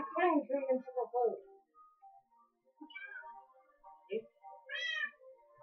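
Cats meowing in Minecraft, several short harmonic meows in a row, close and clear, with a couple of brief pauses between them and no voices over them.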